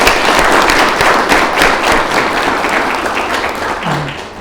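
Sustained audience applause and clapping at an Ethiopian event honoring a brigadier general, dense and steady from start to finish and fairly loud, with no speech over it.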